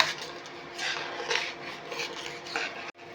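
A spoon scrapes and rubs continuously in a pot while Gobindobhog rice flour and powdered milk are stirred into boiling milk for kheer, a soft, close swishing texture.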